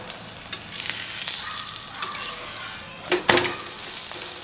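Aloo paratha frying in oil on a flat pan over medium flame, a continuous close sizzle with occasional sharper crackles and light scraping as it is pressed, no voices.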